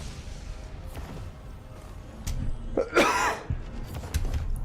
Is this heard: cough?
yes